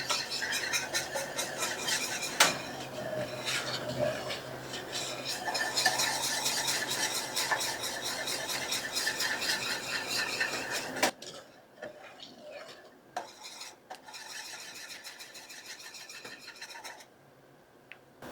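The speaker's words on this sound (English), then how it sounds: "I'm showing you how vigorously I'm stirring this." A spoon scrapes and clatters rapidly against a metal pot of chocolate pudding in fast, steady stirring, then stops, leaving a few faint knocks and scrapes.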